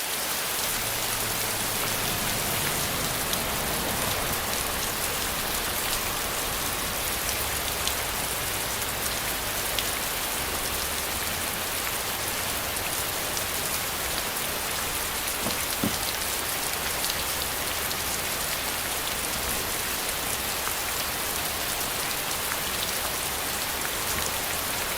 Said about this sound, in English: here's actually a little scene that I did with the car and the rain machine.